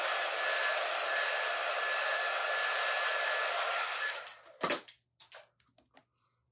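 A hair dryer blows steadily on fresh paint on a vintage gas can, a loud close whooshing roar that cuts off abruptly and is followed by a few brief knocks and clatters.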